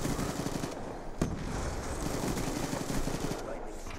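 MSMC submachine gun firing in Black Ops 2 multiplayer, rapid continuous automatic bursts that are loud and dense, with a sharp single crack near the start and game noise mixed underneath.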